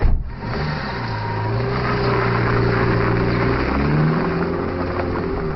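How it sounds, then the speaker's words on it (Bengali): A car pulling away after a door thud, its engine a steady low hum with rising and falling harmonic tones as it drives off, fairly close and continuous. "ডাক্তার গাড়িতে গিয়ে উঠলেন। গাড়ি চলে গেল।"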